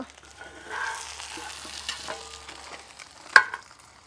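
Fish frying in a pan on a gas stove, a soft steady sizzle with faint stirring scrapes through most of the stretch and one sharp clink near the end, heard alone without talk.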